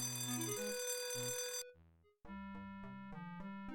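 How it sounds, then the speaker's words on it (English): A twin bell alarm in a video game, loud electronic ringing tones that cut off briefly and then resume as bright repeating chimes, with no talking. "the twin bell alarm sounds"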